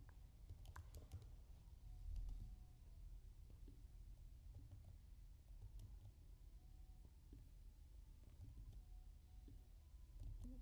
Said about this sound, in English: My typing may be a little bit slow